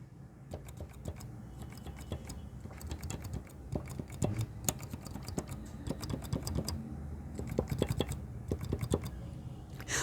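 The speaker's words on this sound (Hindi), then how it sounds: "अगर मैं आपको ब्लैक कीज सुनाऊं" Black keys on a Casio CTK 2550 keyboard pressed in quick succession, producing a continuous patter of soft plastic clicks and taps, close up with no voices.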